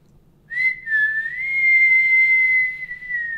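A child whistles one long sustained note that wavers slightly in pitch, close and clear against a quiet indoor background.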